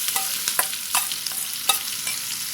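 Sliced vegetables are stir-fried with onions in a pan for a vegetarian beef-style noodle dish. Sharp, irregular spatula scrapes and clacks sound over a soft background sizzle, close up and without talk.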